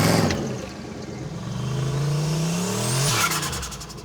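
A Mazdarati project car's engine revs hard and whirs, rising and falling in pitch before dropping off, loud and close with no talking.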